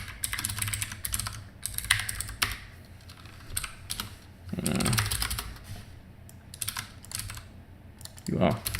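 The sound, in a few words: typing code on a computer keyboard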